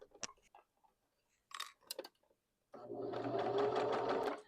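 A sewing machine stitches shorts right next to an elastic seam in one close, steady burst near the end, after a few small clicks and handling sounds.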